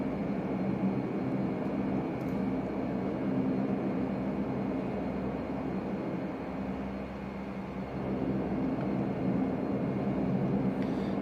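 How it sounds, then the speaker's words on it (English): A Majestic Q400 turboprop on its takeoff roll from runway 24 in a flight simulator, a steady loud drone of engines and propellers holding evenly with no talk over it. "Beginning takeoff at runway 24, right hand crosswind departure."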